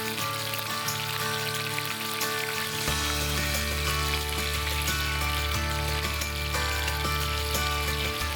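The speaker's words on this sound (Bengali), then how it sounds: "যতক্ষণ এই ভাজাটা চলছে" Telebhaja fritters deep frying in oil in a television cooking-show kitchen, a continuous even sizzle with a steady low hum underneath and no talking.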